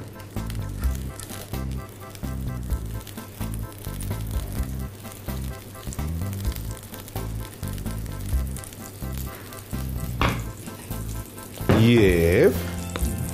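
Butter sizzles in a hot pan while khachapuri, the Georgian cheese bread, is being made. A steady frying hiss runs throughout, rising to a louder burst of sizzle near the end.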